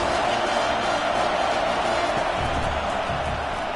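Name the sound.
stadium crowd roaring in a college football video game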